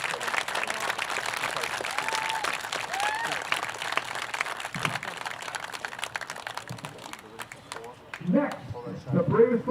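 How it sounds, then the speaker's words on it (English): Crowd applauding the Kirk family at an FDNY Bravest versus NYCD Boldest football game, steady dense clapping and cheering for about eight seconds before a voice begins speaking near the end. "Let's get one more round of applause for the Kirk family."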